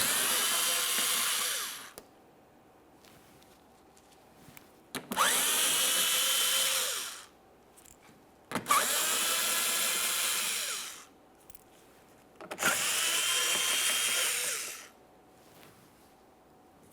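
A power tool spins out 8mm headed bolts from the forward bumper shield of a 2014-2018 Mazda 3, whining in four loud, sustained bursts of about two to three seconds each, separated by short quiet gaps.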